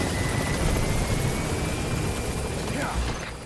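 A helicopter in Metal Gear Solid V, a loud, steady rotor roar filling the whole clip up close, easing off slightly at the end, with a voice talking faintly underneath.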